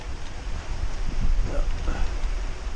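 Heavy rain pounds a hunting blind during gun season, a steady, close, broadband hiss that swells slightly midway with no clear breaks.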